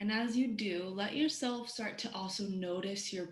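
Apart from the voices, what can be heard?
No everyday noises stand out.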